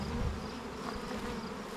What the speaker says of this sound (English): Oh, look, there's a little bee right there.